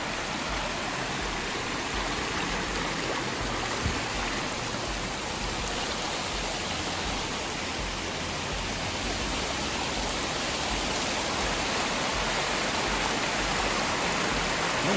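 Water from a cave stream in Cumberland Gap National Park rushes steadily, a dense continuous broadband roar with no breaks, close and constant throughout.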